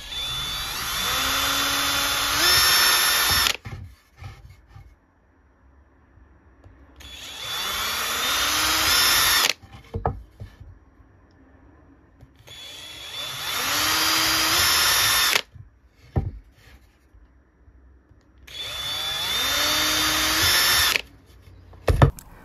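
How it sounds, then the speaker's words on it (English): Power drill pre-drilling holes in wood, whirring up in four separate bursts of several seconds each, with quiet handling noises in between. "I then pre-drilled the marks where the clips are going to be mounted."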